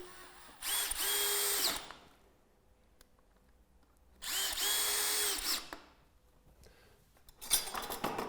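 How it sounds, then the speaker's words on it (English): A power drill fitted with a Torx 20 bit drives 30mm screws into a roof window bracket, two loud, whirring bursts of about a second each, then a third starting, with quiet pauses between. "So, with a Torx 20 bit, insert two of the screws."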